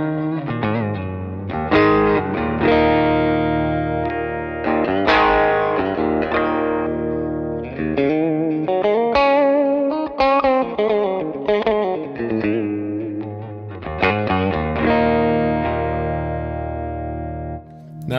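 Overdriven electric guitar through a Victory VX100 Super Kraken amp with preamp focus engaged, mid-heavy bluesy tone, strummed chords and single-note phrases ringing with slight effects, no voices.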